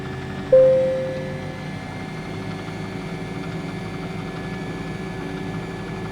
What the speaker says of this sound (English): we can go ahead and give it fuel to start the engine